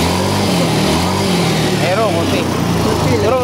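A Yamaha Mio Soul 125 scooter that had run dry of oil idles close by with a steady low engine drone, while someone talks over it.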